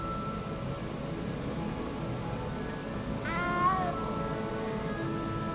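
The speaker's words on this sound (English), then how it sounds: "You don't need to be frightened, little cat." A cat in the video game Hogwarts Legacy gives a single short meow, clear but not loud, over a steady hum of game ambience and music.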